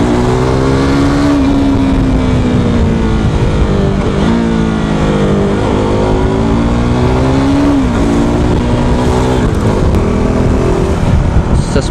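A KTM RC390 motorcycle engine drones loudly and steadily during a ride, its pitch rising and falling with repeated revs and gear changes, with wind rush throughout.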